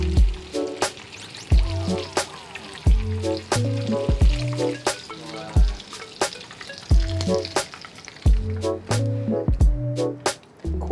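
Cheese sticks crackle and sizzle in very hot oil, a busy frying hiss that carries on throughout alongside a steady rhythmic beat.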